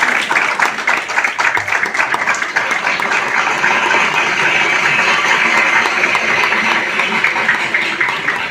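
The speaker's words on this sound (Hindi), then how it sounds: "मैं चाहूंगी तालियां बजती रहनी चाहिए" An audience at an award ceremony in a hotel breaks into sustained applause, dense, close clapping that carries on evenly for several seconds with a few louder bursts.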